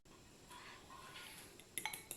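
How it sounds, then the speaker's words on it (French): A spoon stirring homemade modelling dough in a small bowl, faint scraping with light clinks against the bowl that grow into a few sharper taps near the end, with no talking. "Donc là, je vais mélanger, touiller jusqu'à ce que j'ai une jolie pâte qui se forme."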